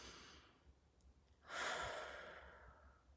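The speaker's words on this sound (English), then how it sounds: "Right, take a deep breath in." A single deep breath drawn in during a calm focusing moment, quiet and close, starting as a soft intake and swelling into a long airy inhale that fades slowly.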